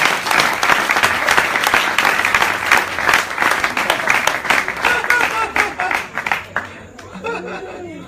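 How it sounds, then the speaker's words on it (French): Audience at a church ministry gathering applauding loudly, dense sustained clapping with scattered chuckles and chatter mixed in, fading out toward the end. "On peut l'acclamer trop fort."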